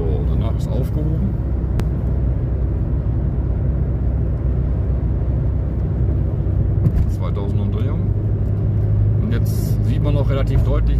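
Volkswagen Lupo cruising on the Autobahn, a steady low engine and road rumble inside the cabin with faint tire noise, while someone talks over it throughout.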